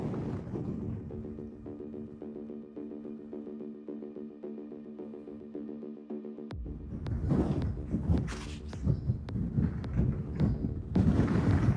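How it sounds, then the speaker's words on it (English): Strong wind on the rocky summit of Shoshoni Peak in the Indian Peaks Wilderness: a steady droning tone gives way to loud, rough gusts buffeting the microphone up close. "And this wind up here is insane."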